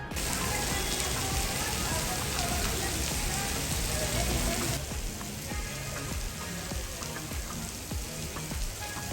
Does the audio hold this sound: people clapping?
no